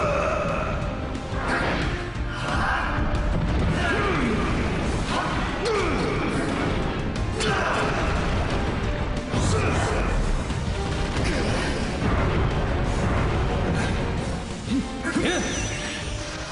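Explosive blasts from an Ultraman special attack in a film, with crashing, whooshing impacts over a dense, roaring soundtrack that stays loud throughout, with voices mixed in.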